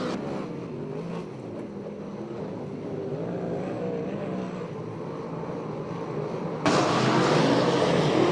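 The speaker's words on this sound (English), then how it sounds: "Taking the white flag, it's the 25 car of Cliff Warren" Sprint cars race around a dirt oval at Ventura, California, their engines producing a continuous loud droning roar that swells sharply near the end as the pack passes close.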